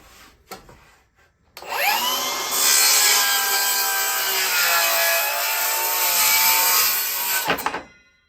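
A handsaw cuts through a wooden board for a birdhouse: a few light strokes, then one long, loud, continuous rasping cut lasting several seconds before stopping abruptly.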